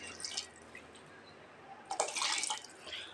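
Water poured into rice in a pressure cooker while making mint rice, a soft splashing pour that swells near the end after a quieter stretch of faint dripping.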